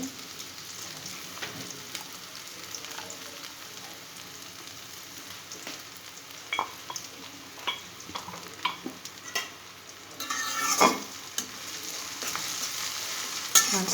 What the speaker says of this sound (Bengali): এই রসুনটা ভাজা ভাজা হওয়া পর্যন্ত অপেক্ষা করতে হবে